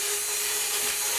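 Exceed MaxStone 1/5 scale RC crawler on a nickel metal hydride battery held at full throttle, giving a steady loud whining motor and drivetrain roar close by with no voices.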